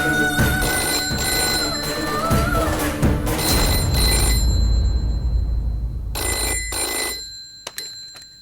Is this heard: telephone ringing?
yes